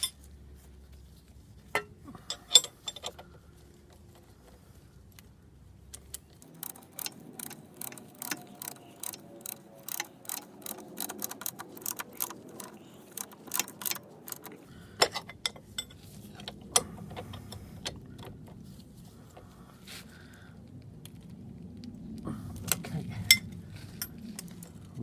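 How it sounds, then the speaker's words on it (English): A ratchet ring spanner tightens a bolt while a centre stand is replaced on a Yamaha Fazer FZS 600 motorcycle, giving bursts of rapid, crisp metallic clicks that start, pause and resume over about twenty-five seconds, close by, with no talking. "I'm just going to get my ratchet ring spanner on the other side"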